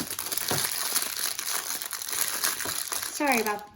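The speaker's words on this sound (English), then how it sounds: "sorry about that noise. That was just the plastic bag holding all of my rubber bands." Plastic bag of rubber bands crinkling loudly and close, a continuous crackling rustle with a brief voice near the end.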